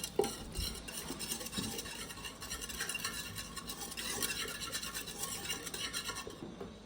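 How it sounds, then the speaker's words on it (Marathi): Cooked dal being stirred and mashed in an opened pressure cooker, with a continuous close scraping and sloshing of a spoon against the metal pot, no voices. "बघू शकता डाळ शिजलेली आहे। तिला अशा प्रकारे हटवून घेऊया।"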